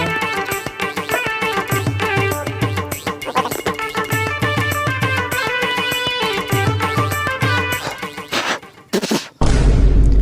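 Loud horse neighing sound effect, a long shrill whinny that repeats across the clip over layered music, ending in a sudden booming crash.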